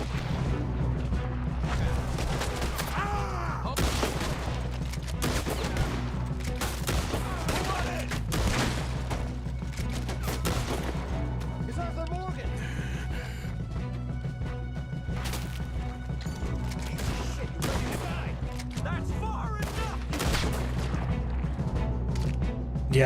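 Rifle gunfire in Red Dead Redemption 2 cracks out in repeated sharp reports and booms across a busy in-game firefight, with other impacts and occasional talk over the din.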